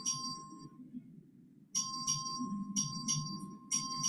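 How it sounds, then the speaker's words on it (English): Tinny bell rings come in quick repeated bursts, with a faint background murmur of voices and room noise, as a clerk calls a record vote in a legislative chamber. "A record vote has been requested. The clerk will ring the bell."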